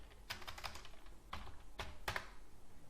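Keystrokes on a computer keyboard as a short command is typed, several quick clustered clicks followed by a few separate taps, close and fairly clear with no talking.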